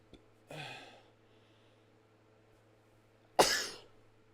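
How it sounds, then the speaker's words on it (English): Two short, sharp bursts of a sneeze, the second louder, separated by a few seconds of quiet. "About to sneeze."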